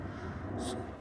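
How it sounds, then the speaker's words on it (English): An aeroplane flies overhead during snowfall, heard as a steady, low, broad rumble that holds for a second, with a brief brighter hiss rising near the end. "this is the sound of the aeroplane"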